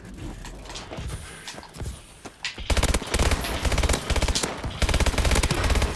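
Gunfire from the AMR9 rifle in Call of Duty Advanced Warfare: game audio opens with ambient battle noise and scattered impacts, then turns to loud, sustained rapid automatic fire with dense repeated cracks for the last few seconds.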